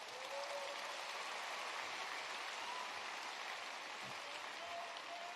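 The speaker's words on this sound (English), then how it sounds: "let's give Jeff Sprecher a round of applause" Sustained audience applause fills a school hall after an honoree is called to stand at a speech at Wheeler High School in Marietta, a dense, steady clatter of many hands lasting throughout with no speech over it.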